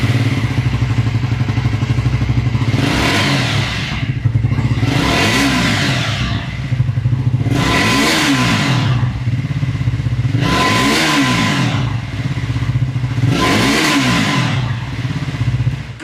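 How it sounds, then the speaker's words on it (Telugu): Triumph Scrambler 400 motorcycle with a double-barrel exhaust, revved repeatedly while idling: five or six loud throttle blips rise and fall at a steady rhythm of roughly every two to three seconds over a constant engine rumble, close up and with no talk. "సో ఒకసారి మీకు ఎగ్జాస్ట్ సౌండ్ వినిపిస్తాను చూడండి."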